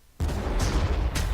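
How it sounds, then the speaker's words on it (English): A big artillery gun fires in a Warhammer Armageddon battle game, one heavy sustained boom with rumbling low-end blast and crackling noise that holds loud for over a second. "The big ass artillery gun."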